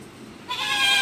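A single goat bleats briefly and close by on a goat farm, where pregnant does are being dewormed; the call rises out of quiet barn ambience.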